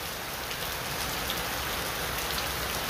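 Heavy, unbroken rain pours down at a stadium construction site, a dense, loud hiss of drops on surfaces with no voices.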